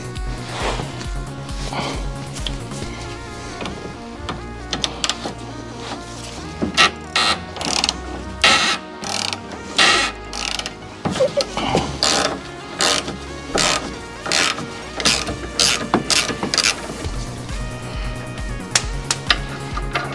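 Ratchet wrench clicking on the fuel filter of a Golf 4 1.4i 16V during maintenance, irregular bursts of sharp ratcheting close by, with a steady tonal background underneath.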